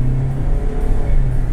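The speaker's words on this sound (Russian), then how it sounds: "Педаль в пол нажал. Ну, гудит, слышно. Но разгоняется нормально." A Mitsubishi Delica D2 hybrid accelerates with the pedal floored, its engine giving a steady, loud droning hum with a rising whine across a short stretch, no talking over it.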